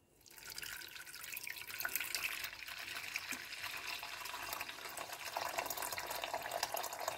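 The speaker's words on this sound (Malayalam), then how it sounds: "അതിനകത്തോട്ട് നമുക്ക് ഇച്ചിരി വെള്ളം" Water pours into ground coffee powder while dry ginger coffee is made, a faint, steady trickling stream that runs on evenly after a quiet start.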